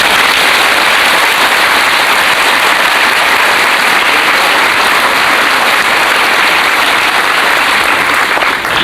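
Loud, sustained applause from a large crowd at a senior high school assembly, a dense wash of clapping that stays steady for the whole stretch with no talking.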